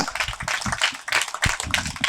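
Loud, steady clapping from a crowd in a religious gathering, a dense broadband patter filling the whole stretch with a few stronger bursts, and no clear talk over it.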